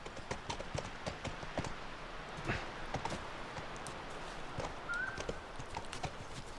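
Horse hooves clip-clop in The Last of Us video game, a quiet, distant, uneven run of hoofbeats with a soft snort partway through.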